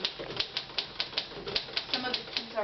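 Typewriter keys strike in a quick, even rhythm of about a dozen crisp clacks, close and moderately quiet, with faint speech underneath.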